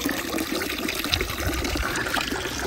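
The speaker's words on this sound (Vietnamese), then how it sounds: "Khu vực đây thì quanh năm nước nó vẫn chảy các bác. Đến cái mùa mà khô nhất thì nó vẫn về nhỏ giọt" Stream water trickles and splashes continuously, a steady bubbling flow close by with no voices over it.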